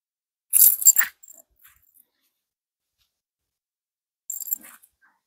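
A dog gives two brief, high yelps in the Brazilian caatinga backlands, one near the start and one near the end, separated by silence.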